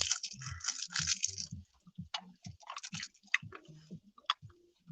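Close, wet chewing and crunching of a hard striped mint sweet, with irregular bites, squishes and clicks over about five seconds and no talk.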